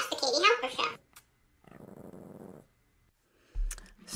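A dog growling low for about a second in the middle, quiet and close, with a person talking beforehand and a thump at the end.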